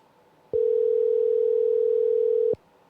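A steady telephone ringback tone heard while placing a call, one continuous loud tone lasting about two seconds before cutting off, with faint room noise on either side.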